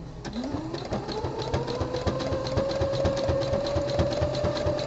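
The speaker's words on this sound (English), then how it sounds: "I'm sewing this" A sewing machine stitches a jock pouch onto a sport brief, running a fast, steady mechanical whir with rapid regular clicking throughout, rising slightly in pitch as it gets going.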